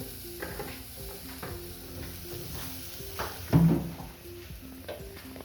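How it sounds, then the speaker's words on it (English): Onions frying in hot oil, a steady sizzle with stirring and scraping, and one louder clatter partway through. "I'm now going to add a little oil to fry them."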